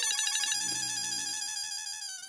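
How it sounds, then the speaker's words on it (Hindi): A phone ringtone for an incoming call plays as a steady, clear melodic tone pattern, close and alone with no talking. "लो, दीदी का ही फोन आ गया।"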